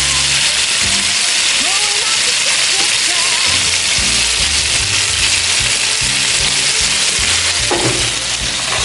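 Chicken frying in a pan, a loud, dense, constant sizzle filling the whole stretch, with a person talking over it.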